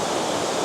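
Steady broadband roar of Mingo Falls, a waterfall over 100 feet tall, rushing continuously and loudly with no pauses or voices.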